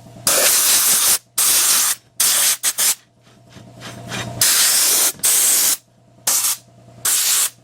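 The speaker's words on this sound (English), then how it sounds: "Now I just pulled the sand induction off of there and just use this as a regular blow gun" Compressed-air blow gun, converted from a sandblaster with the sand induction removed, blasting off a 1961 Scout oil filter can in loud hissing bursts of varying length, roughly eight separated by short pauses, with no talking.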